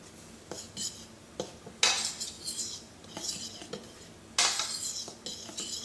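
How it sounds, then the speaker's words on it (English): Allspice, cloves and ginger being mixed into flour in a bowl for gingerbread cookies, with a run of scraping, clinking utensil strokes against the bowl and a few sharper bursts, close up and without talk. "I'm going to mix this into our flour"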